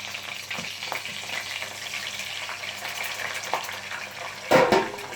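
Steady sizzling and crackling of hot oil in a frying pan as water is poured in while cooking gyoza, with a louder burst of spattering near the end.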